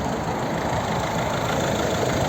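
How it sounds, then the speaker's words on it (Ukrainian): A 2009 Ford C-Max with a 1.6 diesel engine (109 hp) and manual gearbox idles steadily, a continuous close, loud engine rumble with no talking over it. "Ось робота двигуна."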